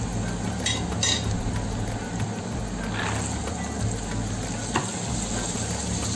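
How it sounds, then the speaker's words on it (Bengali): Spices sizzle steadily in a hot pan for iftar, a continuous frying hiss with occasional clinks and scrapes of a spoon stirring against the metal. "মশলা কষাচ্ছি"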